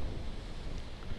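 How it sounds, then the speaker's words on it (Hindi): Strong wind roars at a river confluence in the Spiti Valley, a continuous close rushing blast across the microphone. "बहुत तेजी हवा चल रही है।"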